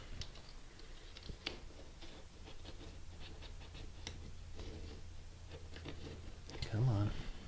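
Sheet vinyl flooring cut into small tabs around a floor pipe with a hand blade: faint, scattered ticks and light snips close by, uneven in rhythm, with a low steady hum underneath.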